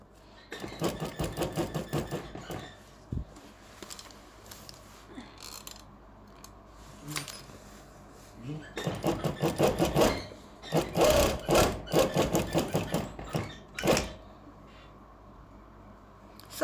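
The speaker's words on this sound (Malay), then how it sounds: "bahagian pengeras kita jahit je" A sewing machine stitches stiffener onto fabric for a layered skirt, running in several loud bursts of rapid rattling, each lasting a second or two, separated by quiet pauses with small clicks, close to the listener.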